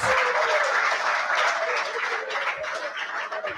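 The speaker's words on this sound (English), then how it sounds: "you need to give the three people sitting here, the resource people, a big round of applause" A seminar audience at a business conference gives a round of applause for the session's resource people, a continuous muffled wash of clapping that stays level and fairly close for a few seconds.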